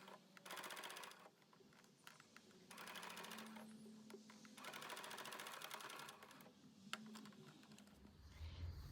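Sewing machine stitching the bottom seam of a striped canteen-style bag, running in rapid mechanical bursts that stop and restart several times, fairly close and with no talking.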